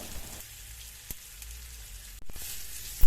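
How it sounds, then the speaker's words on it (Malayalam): Scored boiled eggs roasting in hot chili oil for a Kerala-style egg curry give a steady close sizzle and crackle, with a few sharp pops and a clatter of the pan as the eggs are turned. "ഇനി ഈ മുട്ട എണ്ണയിലെത്തിയിട്ട് നന്നായി ഒന്ന് റോസ്റ്റ് ചെയ്തെടുക്കുക"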